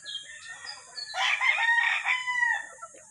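Mt. Banahaw rooster on a farm crowing once, a drawn-out, close, clear cock-a-doodle-doo rising and falling over a quiet background.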